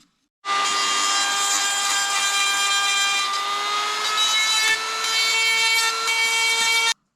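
A Dremel rotary tool cleans the pins of a custom headlight for a Kawasaki Brute Force 750, giving a steady high-pitched whine that runs loud and unbroken for several seconds with a slight pitch shift midway.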